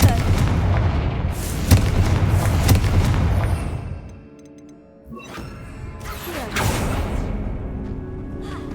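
Heavy booming spell blasts in Hogwarts Legacy, the Confringo fire curse, erupt loudly in repeated bursts, dip into a lull, then return with more impacts and whooshes.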